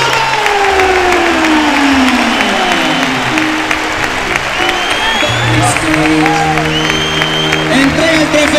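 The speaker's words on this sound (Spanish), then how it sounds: "¡Fuerte el aplauso!" Loud crowd applause and cheering fill a bullring during a national recortadores contest in Valencia, with shouts and voices rising over steady clapping throughout.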